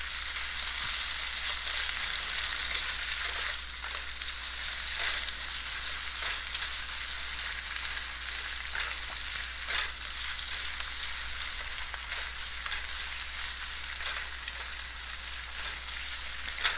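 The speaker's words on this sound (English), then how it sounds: "and I'm stir frying it" Cumin seeds stir frying in a hot pan, a steady bright sizzle with faint scraping stirs and small pops throughout, no talking.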